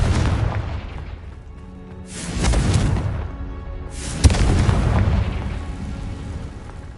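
Confringo blast spell exploding in Hogwarts Legacy on PS5: two heavy booming blasts a couple of seconds apart, the second with a sharp crack, each trailing into a rumbling decay over a constant game soundscape.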